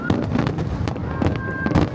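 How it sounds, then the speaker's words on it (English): Nagaoka Fireworks Festival shells bursting in repeated booms and crackles over a steady crowd murmur, with a faint whistling tone, loud and continuous. "when you look at these fireworks, you are not simply watching a summer entertainment event"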